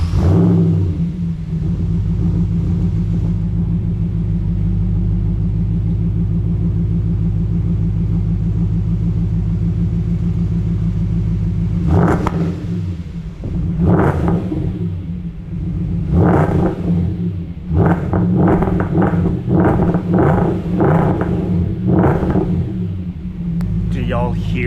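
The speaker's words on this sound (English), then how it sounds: "what better way to end an S4 with a V8 episode than with some revs of the V8?" A V8 engine in an Audi S4 idles with a steady low rumble, then is blipped repeatedly in short sharp revs, loud and close, the bursts coming faster toward the end.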